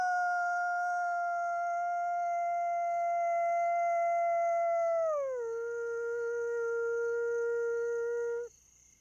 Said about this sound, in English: actually hearing a wolf howl